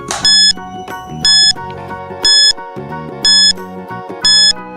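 Countdown timer sound effect for a grade 4 science quiz, with loud electronic beeps pulsing about once a second over a bright looping jingle, five beeps in steady rhythm and no talk.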